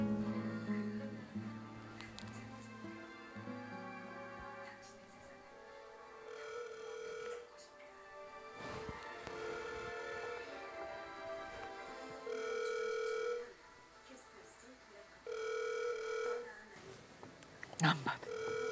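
Tonal telephone ringback pulses repeat at regular intervals, faint and electronic, while a voice speaks over part of it.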